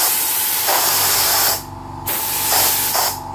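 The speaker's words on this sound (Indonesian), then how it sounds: "Dan ini semprotannya sangat halus" An Ingco spray gun with a 1.4mm nozzle sprays water in a fine mist, giving a loud steady hiss with a few short pauses and restarts, close and with no talk.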